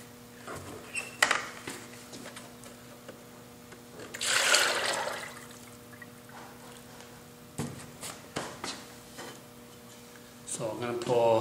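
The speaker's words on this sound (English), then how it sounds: "I'm going to pour the temoku glaze, so I will show you the result." Tenmoku ceramic glaze poured from a bucket, a soft liquid gush swelling mid-way amid scattered clicks and knocks against a low electrical hum, with quieter handling noises before and after.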